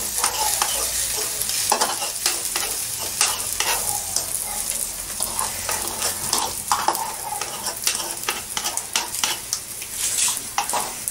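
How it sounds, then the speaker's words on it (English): Food sizzles steadily in a hot pan while a utensil stirs and scrapes through it, giving a continuous frying hiss broken by repeated close scraping strokes and no talking. "I'm going to mix it all together."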